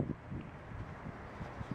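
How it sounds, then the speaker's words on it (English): Strong outdoor wind buffets the microphone on a walk out to a mailbox, a steady low roar with gusty surges and no talking. "It is super windy out here"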